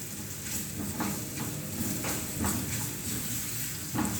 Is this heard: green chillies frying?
yes